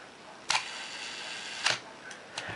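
Minolta SRT film camera shutter fired at one second: a mechanical clack as it opens, about a second of faint hiss, then a second clack as it closes, followed by two softer clicks.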